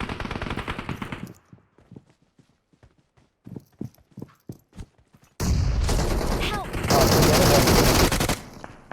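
Gunfire in a PUBG Mobile match comes as loud, dense automatic bursts after a stretch of scattered sharp shots and quiet, with sustained rapid fire filling the last few seconds.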